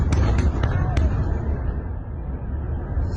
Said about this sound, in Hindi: देखिए पहला धमाका, दूसरा धमाका, ये धमाके देखिए आप, एक के बाद एक धमाके।